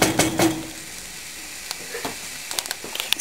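Coriander spices sizzling in a pan for potato curry, a soft steady fry broken by sharp clicks and scrapes of a utensil stirring against the metal.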